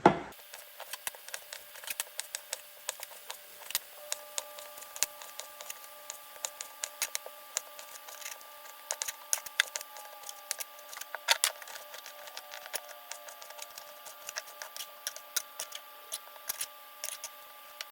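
A knife cuts pork into chunks on a board, making a steady stream of sharp, irregular taps and clicks close by in an otherwise quiet kitchen.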